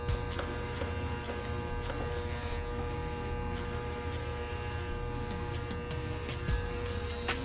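Electric hair clippers buzz steadily and continuously while cutting a low skin fade in a barbershop, a close, constant hum with slight shifts as the blade moves through the hair.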